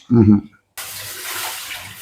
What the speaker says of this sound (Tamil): சட்டிக்கு வந்து பயர் அவியறதுக்கான தண்ணி ஊற்ற போறேன்